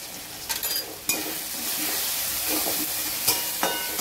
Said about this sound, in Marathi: मसाला छान परतून झालेला आहे